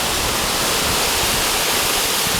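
Battle Creek waterfall in Utah County pours with a loud, steady broadband roar, close and continuous, with no voices.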